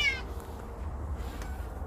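A cat begging for food after a snowstorm gives one short, clear meow at the start, close by, followed by quiet outdoor background.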